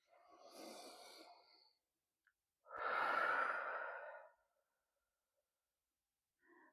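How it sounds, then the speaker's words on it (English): Two deep, slow breaths, a long inhale followed by an even longer exhale, close and soft in a quiet room during a guided meditation session, with a brief faint breath at the very end. "Let's take a deep breath and begin."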